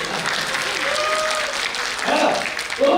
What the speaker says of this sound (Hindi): महिला ताली बजाए मेरे लिए